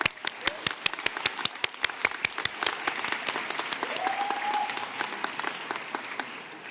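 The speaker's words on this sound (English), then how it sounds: "So they deserve a huge round of applause." Applause from the audience at a dental school commencement ceremony, a dense patter of many hands with individual sharp claps standing out, sustained and fairly loud for several seconds.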